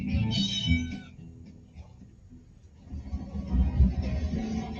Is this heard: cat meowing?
yes